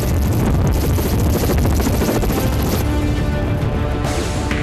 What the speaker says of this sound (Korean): 환자 이송을 위해 중청 대피소 상공했던 헬기.